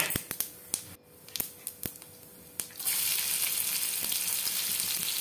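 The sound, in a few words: chopped garlic frying in mustard oil with cumin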